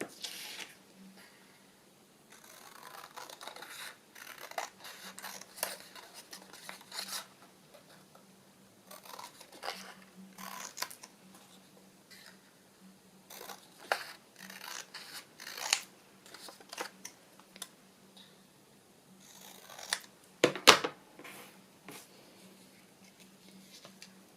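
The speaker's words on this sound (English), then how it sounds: "just need to cut the border down, I think." Scissors trim a paper border on a handmade journal page, a long series of close, crisp snips and soft rustling in irregular bursts, with one sharper clack near the end and no talk.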